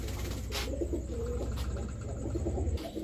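Rajshahi red pigeons cooing close by, soft repeated coos with a few chirps from other birds and a low hum behind them, with no talking.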